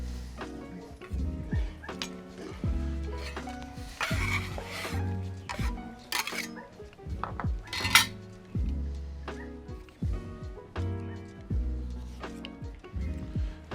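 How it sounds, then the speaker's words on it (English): A sharp knife dices celery and onion into a fine brunoise on a board, a steady run of crisp chopping taps with clinks and knocks, close and clear, occasionally louder, under little or no talk. "With a beautiful sharp knife, we just want to cut a very fine, perfect brunoise"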